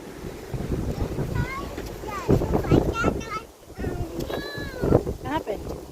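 Strong wind gusts roar across the microphone outdoors, a steady rumbling buffet under children's excited voices and adult chatter.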